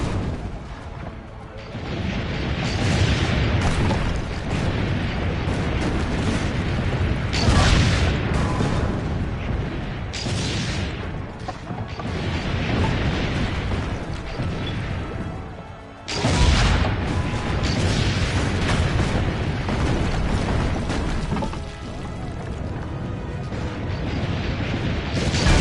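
Cannon fire and explosions in Assassin's Creed Brotherhood: a sustained, loud battle din of booming cannon shots and blasts recurring every few seconds, with voices talking over the roar.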